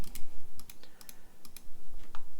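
Computer keyboard being typed on while digitizing a small embroidery design, with a quick, uneven run of sharp key clicks and taps close by.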